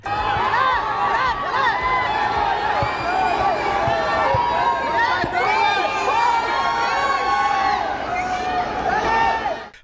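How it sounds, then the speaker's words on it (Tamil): Airport crowd of fans cheering and whooping to welcome Dhoni and the Chennai Super Kings IPL team, a loud, dense wall of overlapping shouts that holds steady throughout. "ஏர்போர்ட்டுக்கு வந்த தோனி அண்ட் கோவை ஃபேன்ஸ் ஆரவாரம் செய்து வரவேற்றாங்க."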